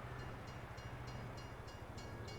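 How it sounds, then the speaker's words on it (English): A train rumbles past steadily in the Farming Simulator 22 game, with a low rhythmic clatter of wheels over rail joints and faint higher ticks throughout, fairly loud and close with no talk. "Train has just gone"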